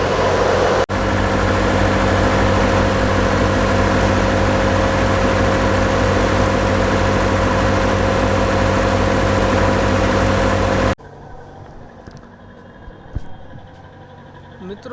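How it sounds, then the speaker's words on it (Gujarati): A ship's main engine roars close and loud with a dense steady drone and low hum for most of the stretch, then cuts to a much quieter room tone with scattered knocks. "આ છે મેન એન્જિન શિપનું."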